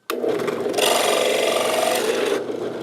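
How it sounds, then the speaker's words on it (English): A power drill fitted with a brad-point bit bores into wood, giving a continuous, harsh whirring grind that starts abruptly and holds steady for nearly three seconds, close and loud with no talk. "Start to drill again."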